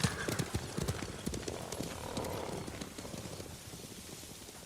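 Horses galloping in the video game Ghost of Tsushima, a rapid clip-clop of hooves that starts loud and close and then fades into the distance, with a faint whinny and no speech.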